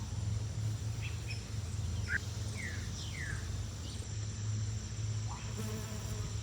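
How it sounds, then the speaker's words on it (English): Insects buzzing among sunflowers in a garden, understood to be bees, a steady low hum close by with a few passing buzzes and faint bird chirps in the background. "so many bees."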